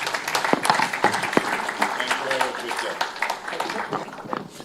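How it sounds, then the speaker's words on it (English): Audience applause for a panel session at an Africa investment summit in London, a dense wash of clapping with sharp individual claps, steady and moderately loud for several seconds with some voices mixed in. "Kindly give a round of applause to our panelists"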